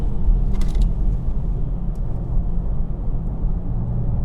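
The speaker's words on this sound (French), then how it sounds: "La voiture enroule sans aucun problème." BMW i4 eDrive35 electric car taking a curve, heard from inside as a steady low road and tire rumble with a faint whine, continuous and fairly loud, with no talking.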